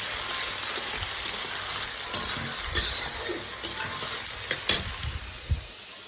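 Chopped onion, garlic and tomato fry in hot oil, giving a steady close sizzle broken by several sharp spoon scrapes and stirring knocks, with no voices.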